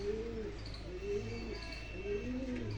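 Young pigeon chicks with white wings coo softly in a series of low, wavering calls, over steady background hiss with faint higher chirps from other birds.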